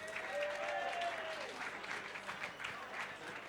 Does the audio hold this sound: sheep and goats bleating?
no